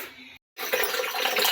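Water runs from a pipe into a barrel on farm fields, a steady close gushing rush that cuts out briefly and then resumes strongly.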